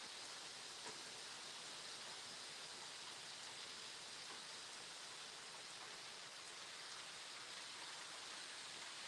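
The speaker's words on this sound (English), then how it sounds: "It just started raining." Steady, soft hiss of rain falling continuously, faint and even with no other sounds standing out.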